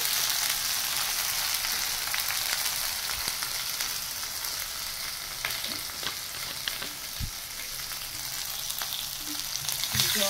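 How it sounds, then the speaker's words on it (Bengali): Spice masala of ground coriander, cumin and turmeric sizzles steadily in a pan, a dense close crackling hiss with occasional scrapes and taps of stirring throughout. "মশলাটাকে কষাই।"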